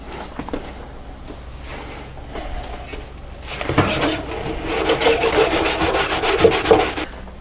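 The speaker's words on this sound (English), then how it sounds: "I'm going to try scrubbing it up, see if I can just get the worst of the corrosion off of here." A corroded part from an Amiga 500 computer is scrubbed to remove the worst of the corrosion. After a quiet start, brisk back-and-forth scrubbing strokes rasp loudly and rhythmically up close.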